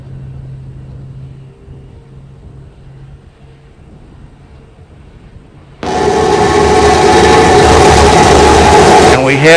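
SpaceX Starship SN15's Raptor engines ignite for landing, a sudden loud broadband roar cutting in after quieter commentary and holding steady to the end, with a voice talking before it.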